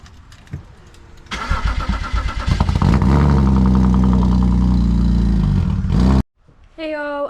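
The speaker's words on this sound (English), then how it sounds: "It's the first cold start, guys." A BMW E36 engine starts cold for the first time: cranking, then a loud catch into a steady, rough idle held close up before it cuts off abruptly, followed by a brief tonal sound at the end.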